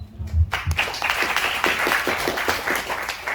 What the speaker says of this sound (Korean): 안세현 교수님의 발표를 큰 박수로 청해 듣도록 하겠습니다